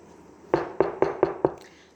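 Five firm knocks on a neighbor's wooden house door, evenly spaced about a quarter second apart, close and clear with no voices.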